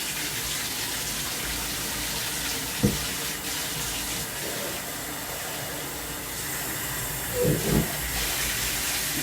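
Hot water gushes steadily from a tap, a loud, close hiss with a few small knocks and splashes along the way.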